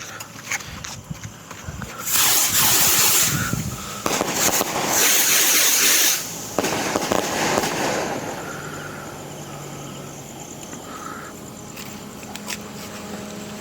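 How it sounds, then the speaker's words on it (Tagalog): Whistling Quitis Bombshell fireworks by Lebrilla go off in loud whistling, crackling bursts with bright hissing tones through the middle, then fade to quieter crackle and ambient noise. "Whistling Quitis Bombshell by Lebrilla."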